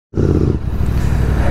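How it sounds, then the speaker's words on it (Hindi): Royal Enfield Continental GT650 motorcycle fitted with a Red Rooster Performance aftermarket exhaust, a loud, close, deep engine rumble that kicks in abruptly and holds steady briefly. "मेरे में एग्जॉस्ट लग रहा है और वो आवाज़ से जानवर परेशान होते हैं।"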